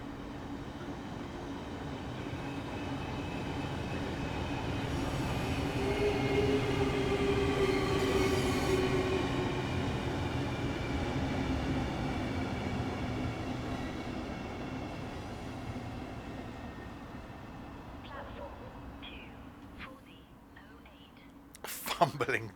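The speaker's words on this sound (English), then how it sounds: "I hear a train." A Class 395 Javelin train runs along the Medway Valley Line in Train Sim World 6, a steady rumbling drone that swells as it passes, adds a brief tonal whine midway, and fades, with a soft voice murmuring over it near the end.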